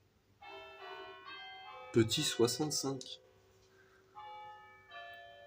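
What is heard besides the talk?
small bells ringing in a video game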